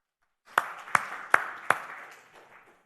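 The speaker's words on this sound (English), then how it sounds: "We are still applauding virtual contributions." Sparse clapping at a live-streamed conference event: four sharp, evenly spaced claps ring out in a reverberant hall, then a soft patter of scattered hands fades away.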